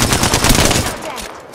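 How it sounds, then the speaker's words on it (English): Rapid automatic gunfire in the Apex Legends video game, a loud dense burst of shots that continues for most of a second and then trails off. "Shooting."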